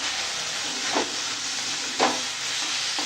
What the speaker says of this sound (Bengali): এবার এই শাকটা একটু নেড়ে নেড়ে এখন রান্না করে নেবো